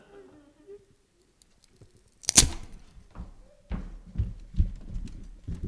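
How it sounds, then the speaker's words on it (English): A single sharp gunshot cracks out loud and close in an old radio-style mystery drama, followed by thumps and bumps as the scene carries on with little talk. "What was that gunshot about?"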